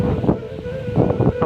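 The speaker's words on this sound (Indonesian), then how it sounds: "Angin semakin kencang ya sahabat ya. Semakin kencang angin di sini." Strong outdoor wind buffets the microphone in gusty, rumbling bursts along a rural road near a hot spring village in Solok, loud and close with no voices.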